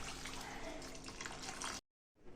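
Water poured into a pan of egg masala (muttai masala) with tomato and dry spices already cooking, a steady close rush of liquid lasting under two seconds, then stopping abruptly into near silence before faint kitchen noise returns.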